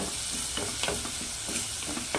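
Tomatoes sizzle and fry in a clay pot while a utensil stirs them in short scraping strokes, a steady close crackle throughout with no voices.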